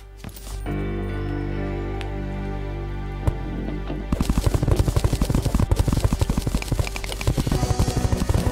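Block mining in Terraria, a sustained hum gives way to a fast, dense stream of crackling hits repeating rapidly, loud and continuous with no speech.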